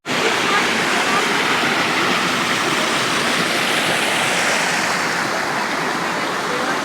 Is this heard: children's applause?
no